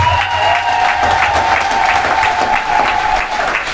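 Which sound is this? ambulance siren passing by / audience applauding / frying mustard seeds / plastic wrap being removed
audience applauding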